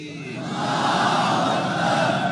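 A large crowd at a political rally roars a sustained unison shout, swelling from quieter to loud and holding steady, dense and reverberant, with no single voice standing out.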